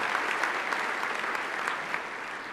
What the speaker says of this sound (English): let's give our council and our city staff and our community volunteers a round of applause